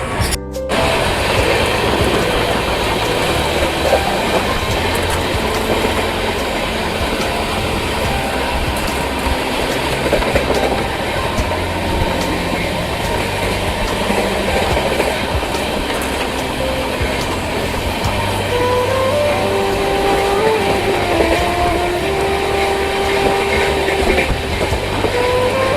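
A train runs along rails toward Puri, its steady clickety-clack and rumbling wheel noise loud and continuous throughout, with brief tonal squeals or horn-like tones appearing near the end.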